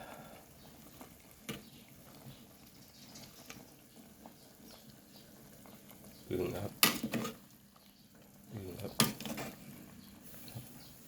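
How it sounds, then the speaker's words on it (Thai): Bamboo shoot soup simmers in a pot with a low, steady bubbling texture, broken by two louder bursts of utensil and pot clatter close by. "ต้มเบืองต้มเบือง เมนูเด็ด ๆเดือดบุบบุบบุบเลย"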